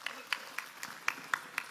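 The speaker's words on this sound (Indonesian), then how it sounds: "Tepuk tangan buat panjenengan semua." Audience applause at a religious gathering in Brebes, heard as faint, evenly spaced claps about every quarter second, sparse and distant, with talk over it.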